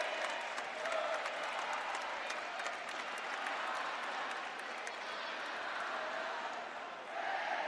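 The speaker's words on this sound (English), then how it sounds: "Does indeed get a nice round of applause." A basketball arena crowd applauds a player, a broad steady wash of clapping mixed with crowd noise and some cheering that keeps up evenly for several seconds.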